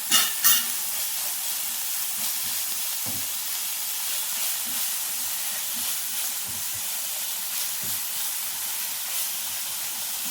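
Crushed green beans with salt sautéing in a pan, a steady hissing sizzle with occasional spoon scrapes and stirs, two sharp knocks at the start, no speech.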